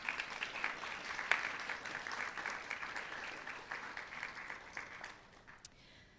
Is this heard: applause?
yes